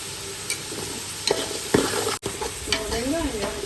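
Onions with salt sautéed in a pan for mutton biryani, a steady loud sizzle of frying with repeated scraping stirs of a spatula close by, no talk.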